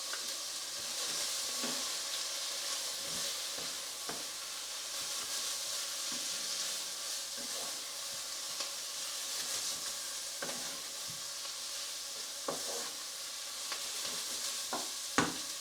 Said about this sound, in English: Now add the coriander, a good pinch of fresh coriander into the pan. Give this a good mix.